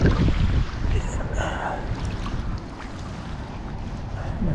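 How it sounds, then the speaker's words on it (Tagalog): Strong wind blowing over a small fishing boat at sea, making a loud, constant roar of buffeting microphone noise mixed with the wash of water, steady from start to finish with no clear speech. "malakas po yung hangin."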